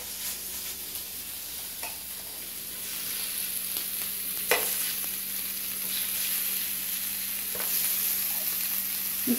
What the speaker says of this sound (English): I'm going to cook these thin slices of pork.